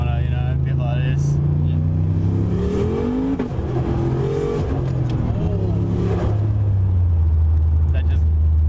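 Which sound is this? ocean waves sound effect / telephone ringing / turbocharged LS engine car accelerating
turbocharged LS engine car accelerating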